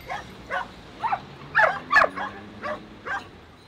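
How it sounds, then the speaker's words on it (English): A pack of about fifteen street dogs tramping across Bucharest gives a steady run of yips and whimpering barks, roughly two per second, close and moderately loud, with a low hum underneath. "about 15 dogs tramping across Bucharest"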